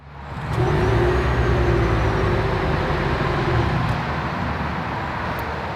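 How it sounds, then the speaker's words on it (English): A 2022 Toyota Venza hybrid starting up: after a brief quiet moment a steady, close engine hum rises and holds at an even level with no revving. "here is the startup of the Venza"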